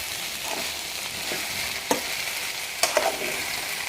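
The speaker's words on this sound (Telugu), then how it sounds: "గ్రైండ్ చేసుకున్న మసాలా వేసి బాగా కలపాలి." Okra fry being stirred with ground masala in a pan, a steady soft sizzle with a few sharp scraping clicks of the spoon, close and moderately quiet, no talk.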